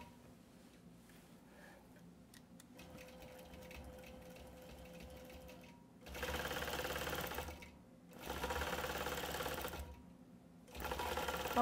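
Sewing machine quilting along a quilt border, running in steady loud bursts with short pauses between stitching runs, preceded by quieter handling noise.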